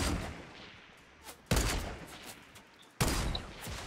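Gunfire in Fortnite: two loud, sharp gunshots about a second and a half apart, each followed by a decaying rumble, over a quieter background of game noise.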